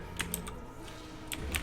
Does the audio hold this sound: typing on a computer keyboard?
yes